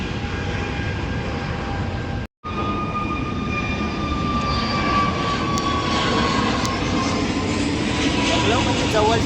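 An IndiGo airplane passes overhead near an airport, a steady loud engine roar with a rising whine, heard from a riverside fishing spot and briefly cut out partway through.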